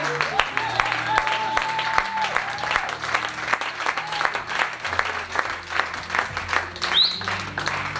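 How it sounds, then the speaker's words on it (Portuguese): A church congregation at a seminar service claps together in a dense, sustained round of applause lasting throughout, with sharp hand-claps over crowd noise, held musical tones and a voice speaking along underneath. "dá uma salva de palmas ao Senhor"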